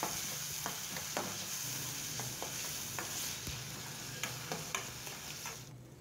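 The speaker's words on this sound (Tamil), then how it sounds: "கண்ணாடி பதம் வர வரைக்கும் அந்த வெங்காயத்தை வதக்கிக்கலாம்." Onion and garlic are sautéed in oil for a methi garlic dish, with a soft, continuous sizzle and scattered light taps and scrapes of a stirring spoon against the pan, fairly quiet and without talk.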